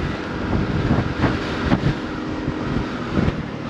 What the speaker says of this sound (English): it really is windy, but still warm